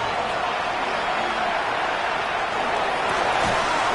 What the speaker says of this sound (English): What about this crowd getting even louder